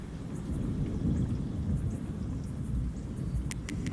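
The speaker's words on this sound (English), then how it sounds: "Starts off with a storm," A thunderstorm opening a song: a deep continuous rumble of thunder under steady heavy rain, with scattered crisp raindrop ticks, loud and close and without talk.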